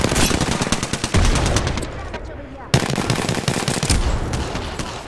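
Rapid automatic gunfire in Apex Legends, loud and close, bursts of shots with a short pause midway before firing resumes, game effects mixed in.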